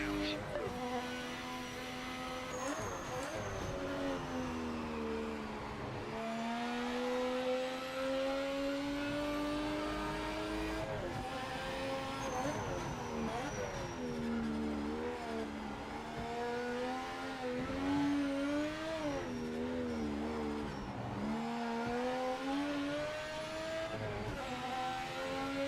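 Race car engine in the Project Motor Racing video game, a loud continuous whine that climbs in pitch and drops sharply at each gear change, over and over without a break.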